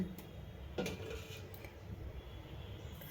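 Soft scrapes and a few light clinks of a spoon against a bowl as okra fry with coconut spice is served, quiet and close.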